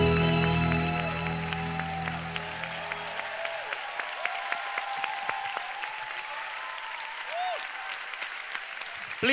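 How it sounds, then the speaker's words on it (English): A church audience breaks into sustained, loud applause for the drama team after a service presentation, with musical tones lingering under the first few seconds before the clapping carries on steadily. "Please give a big clap to the drama team."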